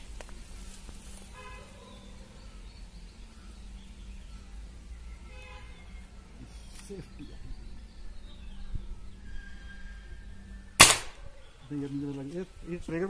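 A single sharp crack from a Diana 460 Magnum .177 air rifle firing, sudden and loud against a quiet room background.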